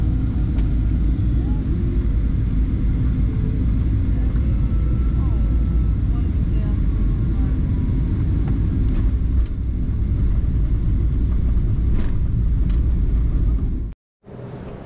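Airport ambience at Izmir airport, a steady low rumble of aircraft and vehicles with faint clatter, continuous and moderately loud, with distant voices under it before a sudden brief cut near the end.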